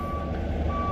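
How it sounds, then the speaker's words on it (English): A truck reversing outdoors sounds a steady high-pitched warning tone held through the whole second, with a low engine rumble beneath and no talk. "Sorry for the noise. There's a truck outside."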